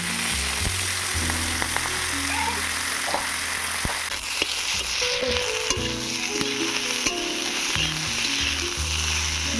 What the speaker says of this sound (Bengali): সব শেষে ভেজে নেবো মূলো শাক।